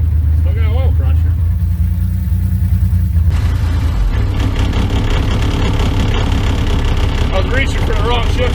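Diesel-swapped Corvette engine roaring at full throttle on a top speed run, a loud, steady low drone with rising revs and a gear change about a third of the way in, heard from inside the car with voices over it.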